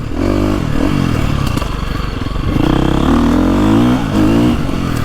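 A 2025 KTM 350XCF Factory Edition four-stroke dirt bike engine revs hard up close, loud and continuous, with rising and falling pitch sweeps as the throttle is worked, alongside some clatter and scraping.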